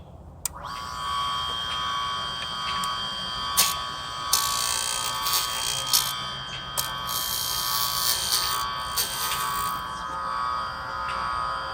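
Key cutting machine grinding a replacement key for a Honda Prelude, starting abruptly with a high whining buzz that holds steady, broken by several sharp scraping bursts as the blade bites the blank.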